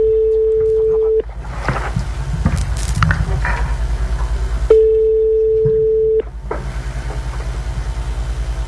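An outgoing call on a radio show rings with a steady electronic tone, twice, each lasting over a second, separated by longer stretches of busy background noise and rhythmic low pulses.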